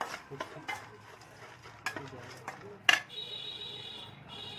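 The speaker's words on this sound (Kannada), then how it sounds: "ಮಿಕ್ಸ್ ಮಾಡ್ತಾ ಇದ್ದೀನಿ." A spoon stirs and scrapes spices in a pan for a village-style country chicken curry, making quiet, irregular clinks and scrapes with one sharper knock against the metal.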